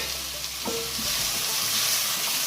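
Snake gourd pieces go into a hot pan with already-fried ingredients and are stir-fried, giving a steady close sizzle with a brief clatter and scrape of stirring partway through.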